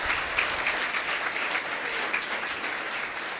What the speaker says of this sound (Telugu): ఒకసారి మరొకసారి క్లాప్స్ కొడదాం